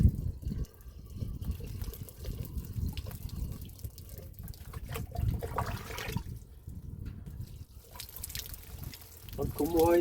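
A newly installed water pump for fishpond irrigation runs with a low, uneven rumble while water splashes and gushes on and off nearby.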